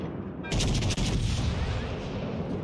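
Naval guns from the Des Moines fire in World of Warships Legends, a sudden heavy blast that opens a dense, roaring barrage and rolls on loudly to the end.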